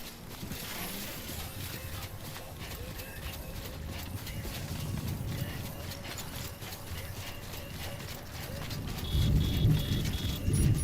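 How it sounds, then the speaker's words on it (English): Rain falls in the Death Stranding video game, a steady hiss with rhythmic tapping footsteps and low rumbling swells building toward the end, like distant thunder. "Oh, and it's raining."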